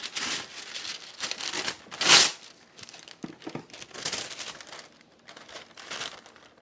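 Wax paper crinkles and rustles in scattered bursts while being handled for a no-bake chocolate peanut butter cookie layer, with one sharp, louder crackle partway through and quieter handling noises around it.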